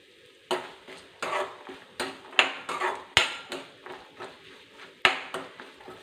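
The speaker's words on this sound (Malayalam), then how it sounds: "നമ്മൾ ആദ്യം തേങ്ങ വറുത്തൊന്ന് കോരുവാണേ" Grated coconut fries in a pan of ghee and coconut oil, a low sizzle punctuated by repeated sharp scraping and knocking strokes of a spoon against the pan at an uneven rhythm.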